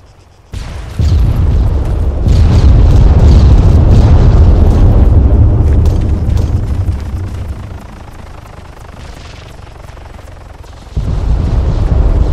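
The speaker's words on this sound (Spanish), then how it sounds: "hay cinco helicópteros de estos" Several military helicopters in the video game Arma drone and thump loudly and continuously, with heavy low rotor rumble, a sudden surge near the start and another near the end, and no speech.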